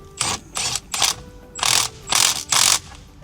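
A hand ratchet tightening the steering wheel nut on a 100/105 Series LandCruiser, six quick bursts of close, loud clicking in an uneven rhythm.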